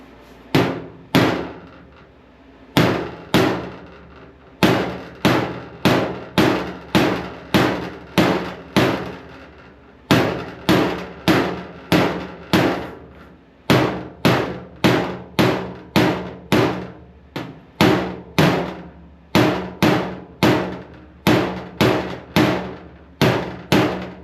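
Steady, ringing hammer blows on the sheet metal of a 1946 Ford car hood under repair, coming in quick bursts of strikes with short pauses between groups, loud and close.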